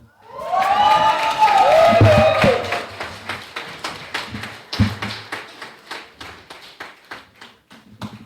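A church congregation applauds, loud at first with cheering voices over the clapping, then thinning to a steady run of separate claps that fades toward the end.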